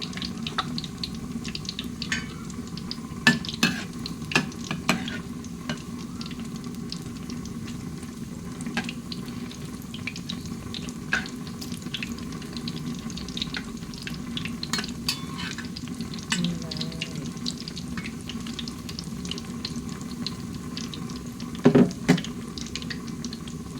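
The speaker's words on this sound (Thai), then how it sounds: "มาทอดกันต่อ" Fish and mushrooms frying in a pan, a continuous sizzle running throughout with scattered small clicks and clinks of utensils, fairly close, with no one talking.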